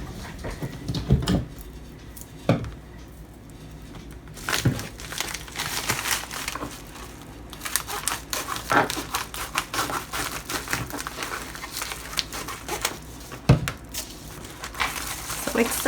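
Paper packaging from a Chic Sparrow order is unwrapped close by, with irregular crinkles, rustles and sharp crackling bursts, quiet pauses between handling, and occasional taps as items are moved.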